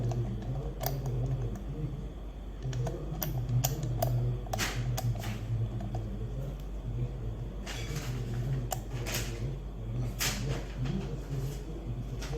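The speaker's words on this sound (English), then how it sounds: "Rotate dials to the combination provided." The combination dials of a key-lockbox padlock are rotated, giving a series of small, close clicks and ticks at an irregular pace, fairly quiet over a low background hum.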